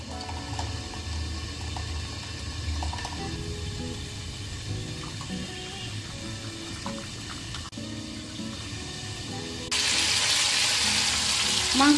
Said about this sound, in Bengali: এবার আমি ছেঁকে নেব।